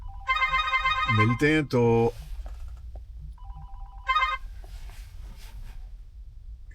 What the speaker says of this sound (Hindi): तो मेरे दोस्त का फ़ोन आ गया था।